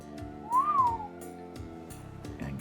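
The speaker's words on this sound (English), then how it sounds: "The Zetar whistle." A single whistled note from the Zetar whistle rises and falls in a short melodic glide over a soft musical background, with no talking.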